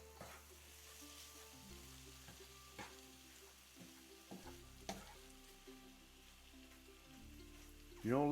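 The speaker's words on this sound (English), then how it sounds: "Turn our heat down a little bit and mix all this together." Fried rice with soy sauce and sesame oil sizzling quietly in a pan while being stirred, with occasional scrapes and taps of the utensil over a low steady background, and no voices.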